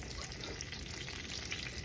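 Chicken breast sizzles and crackles in hot oil in a pan, a continuous faint frying hiss with small pops, no talking.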